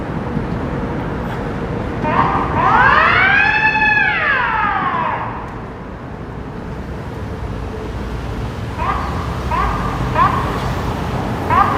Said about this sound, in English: It's a normal day in Brooklyn with a fire engine.